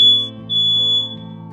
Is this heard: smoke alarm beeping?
yes